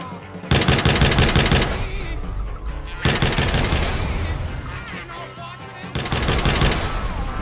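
Bursts of rapid automatic gunfire from the video game Watch Dogs 2 come in three loud sustained volleys with brief gaps between them, close and dominant over the game sound.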